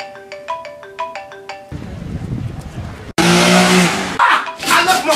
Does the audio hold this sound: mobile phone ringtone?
yes